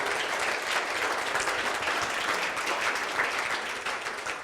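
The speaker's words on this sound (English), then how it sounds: "let's give these guys one more round of applause" Sustained audience applause fills a room at a panel event with young politicians and activists, a dense, steady wash of many hands clapping throughout, tapering slightly at the end.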